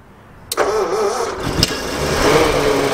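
Classic Ford V8 Pilot car with its engine started cold on a little choke: a short crank bursts into a running engine, another brief catch, then a steady, rising idle held close by.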